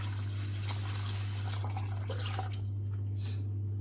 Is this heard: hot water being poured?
yes